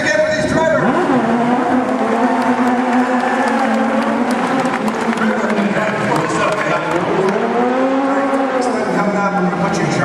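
A live audience at a car stunt show applauds and cheers for the stunt drivers, with broad crowd noise swelling under an announcer's amplified voice and the rumble of a car engine nearby.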